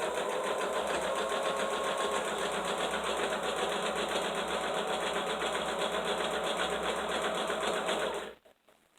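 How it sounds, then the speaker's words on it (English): A home sewing machine runs a second seam on a fabric draft stopper, a loud, steady, rapid mechanical clatter that continues for about eight seconds before stopping abruptly. "Your sewing machine sounds like an old train. Click, clack, click, clack."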